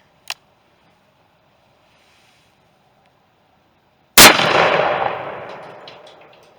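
A single sharp, loud crack from a 454 Casull revolver fired at a pumpkin outdoors, preceded by a faint brief click and followed by a long fading echo tail.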